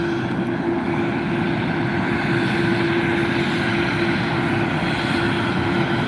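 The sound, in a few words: McDonnell Douglas MD-11 jet taxiing at airport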